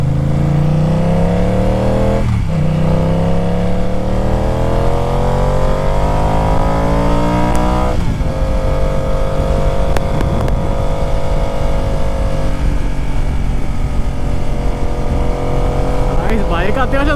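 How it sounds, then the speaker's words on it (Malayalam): A BMW F 900 XR motorcycle accelerates hard on an open road, its engine note climbing in rising sweeps. The pitch drops briefly at each gear change, then climbs again. The engine is loud and close the whole time. "ബൈക്ക് അത്യാവശ്യം നന്നായിട്ട് തന്നെ പുള്ളി ചെയ്യുന്നുണ്ട്"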